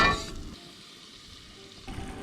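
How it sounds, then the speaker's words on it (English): Shallots, garlic and butter sautéing in a pan give a steady, close, soft sizzle that runs throughout. "Kind of like a pan sauteed, shallots, butter, garlic."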